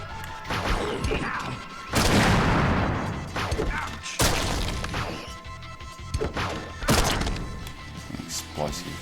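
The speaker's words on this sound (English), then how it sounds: "An explosive bolt gun or something." Explosive bolt gun in the shooter game Slayers X firing in a few heavy, booming blasts with crashing impacts, loud and near, mixed with other game noise.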